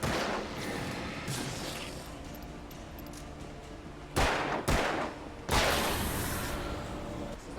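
Gunshots in the Alan Wake video game: three sharp, loud shots fired in quick succession after a stretch of tense ambient game sound, with no talking.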